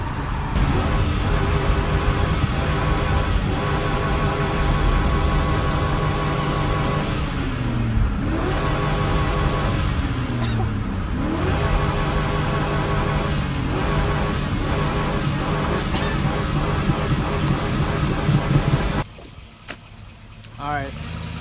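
A Chevrolet Silverado pickup with a rod-knocking engine is held in second gear. It drones loudly up close and rises and falls in pitch as it revs. Someone shouts over it, and near the end the engine drops back toward idle.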